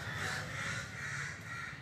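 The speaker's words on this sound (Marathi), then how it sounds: "कावळे केवढे ओरडत आहेत ना" Several crows caw loudly and repeatedly, their harsh calls overlapping in a noisy chorus nearby.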